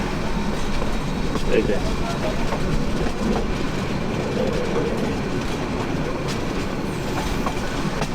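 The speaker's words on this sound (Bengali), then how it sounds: "ট্রেন স্লো হয়ে যাচ্ছে। সামনে নরসিংদী রেলওয়ে স্টেশন।" The Kishoreganj Express, a Bangladeshi intercity train, rumbles along as it slows toward Narsingdi railway station, with a steady loud roll and faint wheel clatter. Voices talk over the train noise inside the carriage.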